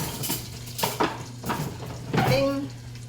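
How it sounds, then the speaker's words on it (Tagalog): Utensil scraping and clanking against a pan while stirring chicken caldereta mix, several broad scrapes over a steady low hum, fairly close with faint background voice. "Halo-haloin po natin ang ating caldereta mix."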